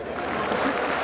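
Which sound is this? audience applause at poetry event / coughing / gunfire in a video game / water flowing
audience applause at poetry event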